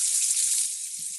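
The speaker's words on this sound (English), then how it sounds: "So first we need to turn on our hot water." Hot water runs steadily from a kitchen sink faucet during dishwashing, a continuous close hiss and splash with no voices.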